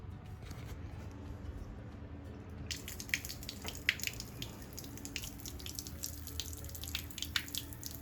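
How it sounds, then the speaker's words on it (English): Water drains from the low point valves under an RV being winterized, a faint steady trickle and splatter with scattered drips that becomes brighter and more hissy partway through, heard alone against low outdoor rumble. "the low point valves are draining out"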